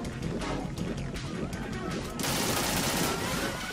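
Gunfire in the video game Metal Gear Solid 2 shot into water, a rapid dense burst of cracks and splashy impacts that thickens into a louder roar near the end.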